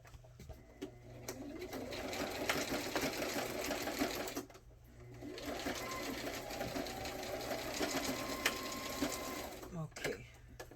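A sewing machine stitches lace onto a cover in two long, fast runs with a short pause between, fairly faint and close.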